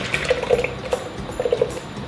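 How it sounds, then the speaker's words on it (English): Greek Christmas cookie mixture of oil, butter, orange juice and sugar is poured from one bowl into another, making close, soft wet glugs and slaps in a few uneven bursts with no talk. "All right, now I'm gonna pour this into here."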